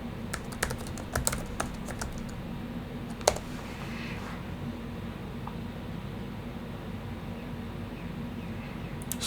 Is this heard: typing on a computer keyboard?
yes